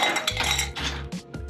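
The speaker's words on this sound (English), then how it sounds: "We're going to ice our glass" Ice cubes dropped into a cocktail glass for a gin drink, a few quick clinks and knocks of ice against glass, close and fairly clear with no talk.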